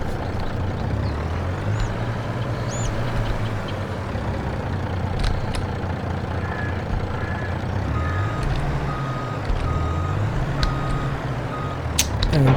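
A Farming Simulator 22 truck reverses with steady, evenly spaced beeps over a constant low engine drone, moderately loud and without talk.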